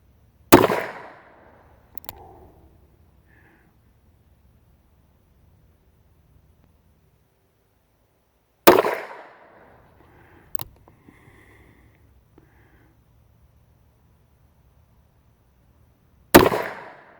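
Three sharp gunshots at target practice, spaced several seconds apart and each ringing out with a short echoing tail, followed by faint clicks and handling noise in the quiet gaps.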